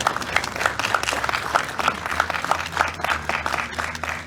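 A round of applause at a September 11th World Trade Center remembrance ceremony in San Luis Obispo, with scattered, moderately loud claps from a modest crowd over a low background hum.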